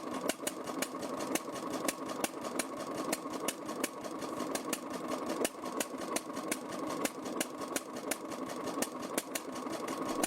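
A Snow 600-HP stationary diesel engine runs steadily, its even, rapid mechanical knocking repeating like clockwork over a constant low hum, moderately distant with no voices.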